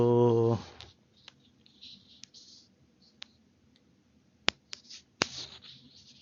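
Sparse computer mouse clicks, single sharp ticks spaced irregularly over quiet room tone, after a brief hum at the start.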